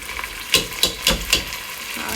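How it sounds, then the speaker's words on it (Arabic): Onions sizzle in a cooking pot as a spoon scrapes and stirs them, four quick scraping strokes over a steady hiss of frying, close and fairly loud, with no talking. "يلا احترق البصل"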